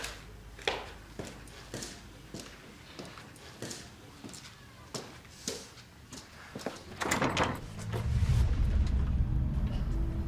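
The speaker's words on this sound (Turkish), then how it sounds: "Kusura bakmayın, kapıyı açmam lazım." A door is opened indoors in a home, with a few soft clicks and knocks followed by a rising rush of air and rumble as it swings open, moderately loud and close, with no talk.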